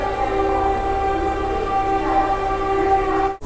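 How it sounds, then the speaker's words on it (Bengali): A passenger express train pulling out of a station on the Howrah to Mandarmani route, with a steady rumbling drone, a sustained tonal whine and a brief sharp sound at the very end, close and continuous, with no talk. "ট্রেন ছেড়ে দিয়েছে এখন"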